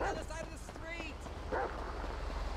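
A dog in GTA V gives a few quick barks and yips close by, short bursts over a steady game background hum, with people talking around them.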